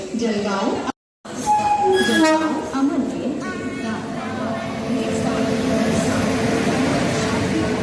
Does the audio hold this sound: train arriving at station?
yes